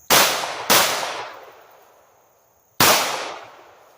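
A snubnose revolver fires three sharp, loud gunshots, two close together and a third after a pause, each ringing out with a decaying tail at a defensive shooting practice.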